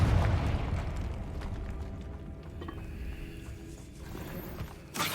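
A Confringo blasting curse explodes in Hogwarts Legacy inside a bone-lined catacomb tomb, opening with a loud, deep burst that fades into a long low rumble, with a brief sharp knock at the very end.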